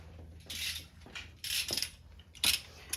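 Long 1/2-inch ratchet working on a 2001 Mazda Miata 1.8 VVT engine during a timing belt and water pump job, several short bursts of quick clicking separated by pauses, fairly quiet.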